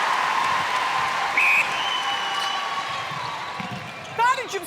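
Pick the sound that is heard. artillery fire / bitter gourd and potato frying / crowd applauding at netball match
crowd applauding at netball match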